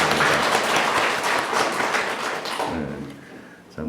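A congregation claps together during a Sunday church service, a dense, even burst of many hands that fades out after about three seconds, leaving a quieter room with a faint voice.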